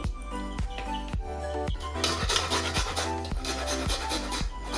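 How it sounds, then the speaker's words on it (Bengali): An onion is grated by hand, producing rhythmic, close rasping strokes, about eight to ten of them, each a short scraping rub of the onion against the grater. "পেঁয়াজটাকে আমি ঘষে নেবো"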